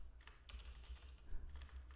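Quiet, rapid typing on a computer keyboard, with soft clustered keystrokes and no voices.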